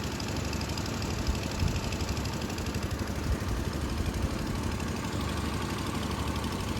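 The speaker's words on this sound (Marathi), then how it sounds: "मशीननी बाहेर काढायचं पाणी चालू झालं" An engine-driven water pump drains a flooded building after heavy rain in Panvel, its motor idling with a steady, knocking chug at moderate distance.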